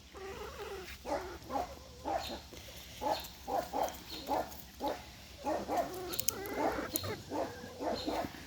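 Dogs bark repeatedly in a fairly steady rhythm on a farm, some distance away, short sharp barks continuing for several seconds with a faint background hum.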